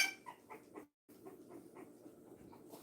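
A two-to-three-week-old puppy from a litter whimpers softly up close, letting out a quick series of short, breathy cries and pants with a brief silent gap before they resume at a steady, fretful rhythm.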